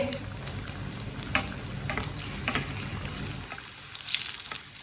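Aloo tikki potato patties shallow-frying in oil, a soft steady sizzle with faint crackles and occasional light clicks, quiet and close, thinning out near the end.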